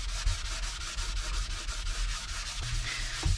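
Autosol is rubbed by hand onto a vintage Bell Colt plastic radio case in a rapid, even rhythm of close scrubbing strokes that carries on without pause.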